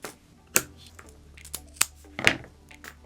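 Scissors snip through stretchy fabric for a handmade Kourin belt, a few sharp separate cuts close by, with brief rustling of material between them.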